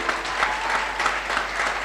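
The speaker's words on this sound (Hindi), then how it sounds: "मैं चाहूंगी अब तक की सबसे जबरदस्त ताली हो जाए" An audience claps loudly and steadily at a women's business gathering, dense applause filling the whole moment with no voices over it.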